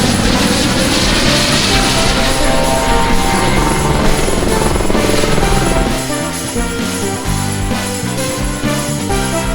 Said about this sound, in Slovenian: to je helikopter, ko nas čaka.